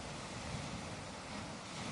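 Ocean waves washing onto a beach, a steady soft roar of surf with no distinct breaks, faint and continuous.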